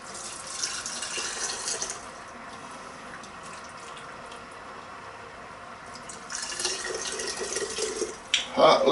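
Hot homemade chicken bone broth poured into hot canning jars, a steady soft liquid stream running for several seconds, swelling louder toward the end with a few clinks.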